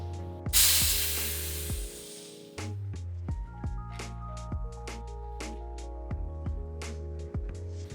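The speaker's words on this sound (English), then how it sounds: "unscrew the valve cap and take all the air out, otherwise it can blow in your face" Air bleeding from the valve of a FOX DPX2 rear mountain-bike shock, a loud sharp hiss near the start that fades over a couple of seconds, followed by light clicks and handling taps.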